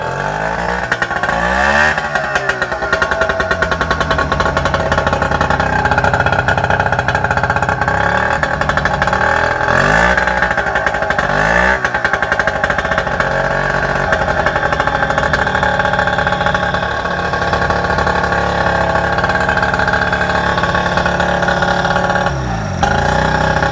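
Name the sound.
Yamaha 9.9 two-stroke outboard engine starting and running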